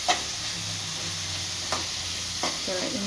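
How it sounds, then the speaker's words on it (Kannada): Green peas fry in oil for paneer butter masala, giving a steady, even sizzle up close, with a few faint spoon taps as they are stirred. "ಆಮೇಲೆ ಬಟಾಣಿ ಹಾಕ್ಕೊಬೇಕು. ಚೆನ್ನಾಗಿ ಫ್ರೈ ಆಗಬೇಕಿದ್ದು"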